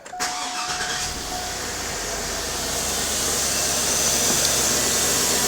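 A car engine cranks and catches, then settles into a steady running hum that grows slightly louder and smoother over the following seconds, close by with no talking.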